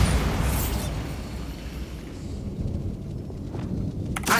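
A Bombarda explosion spell goes off in Hogwarts Legacy, heard as a broad, rumbling blast that starts loud, then settles into a long, dark roll and a crackling tail with a faint late thump.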